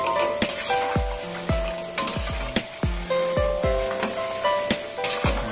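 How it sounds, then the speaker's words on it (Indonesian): Amplang fish crackers from Samarinda frying in hot oil, sharp repeated crackles and pops over a steady sizzle, close and fairly loud, arriving in irregular bursts with no talking. "Ini tanda amplang mau masak. Nah, jadi bunyinya ini menggeretuk."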